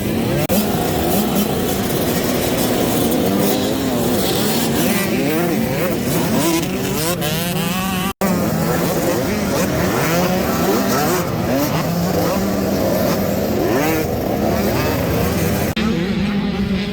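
A pack of 85cc dirt bikes revving and jamming up in a corner during motocross practice at Gatorback Cycle Park, a loud, continuous, overlapping engine roar with rising and falling revs from many bikes at once.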